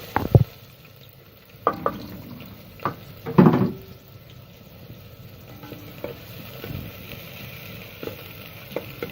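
Onions frying in oil in a pot on a gas stove, a soft sizzle broken by a few loud scraping stirs of a spoon against the pot, then quieter steady frying with no talk.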